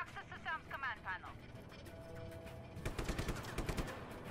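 Enemy gunfire in Just Cause 3 arrives as a rapid burst of sharp automatic shots near the end, after a stretch of quieter game sounds with a voice speaking earlier.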